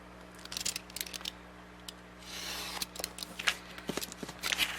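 Scissors snip through the paper of a gift bag in a run of short, crisp cuts, close and fairly quiet, with a soft rustle of handled paper midway and no talk.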